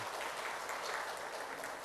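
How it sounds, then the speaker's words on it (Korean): Audience applause for a child's cello solo: a steady, dense patter of many hands clapping together, continuous and fairly distant throughout, with no voices. "우리 진성이 위해서 박수 한번 해주세요."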